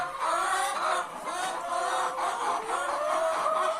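Many hens on a laying farm cluck and murmur continuously in a dense, overlapping chorus, moderately close with no talk over it.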